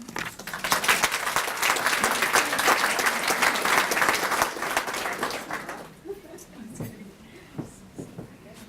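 A crowd applauds steadily for several seconds, dense clapping that fades out into a quieter room with scattered sounds and a voice.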